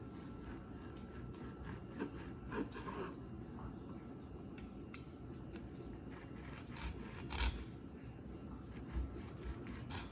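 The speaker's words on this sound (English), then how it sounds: "We're gonna cut all these slices." A knife slices through medium-rare cooked steak at an angle, making quiet, repeated rasping strokes with a few soft scrapes over about ten seconds.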